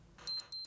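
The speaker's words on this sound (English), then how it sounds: "The alarm clock operates even when the dosimeter is turned off." A DKG-21M dosimeter's alarm clock gives two short, shrill electronic beeps, evenly spaced and clear against quiet room background.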